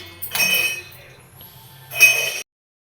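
Soaked green gram is tipped into a mixer grinder jar in a kitchen: two bursts of bright rattling and clinking against the jar, with a quieter stretch between them.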